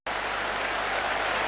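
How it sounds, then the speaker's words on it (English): A crowd at a Manchester United and Arsenal football match applauds a brilliant save by goalkeeper Bailey, a dense, steady wash of clapping that starts abruptly and stays loud throughout. "the Manchester United players in fact are applauding Bailey for a truly brilliant save"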